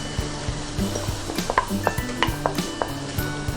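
Minced meat tipped into a hot pan and stirred, with a steady sizzle under repeated clinks and scrapes of a utensil against the pan, close and fairly loud.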